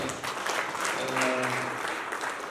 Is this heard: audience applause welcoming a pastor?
yes